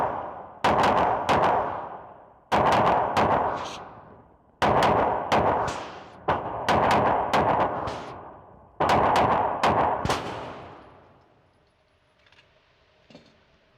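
Oracle Arms 2311 pistol fired at a gun range in five quick bursts of two to four sharp, loud shots each, with echoing decays between strings and a quiet tail at the end.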